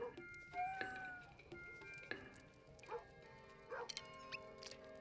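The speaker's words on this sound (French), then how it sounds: "Ils continuent d'aboyer, c'est qu'ils attaquent encore à gauche." In the video game Kingdom Two Crowns, small barks ring out at scattered moments, thin and not far off, over a soft layer of game music and effects, with no voice speaking.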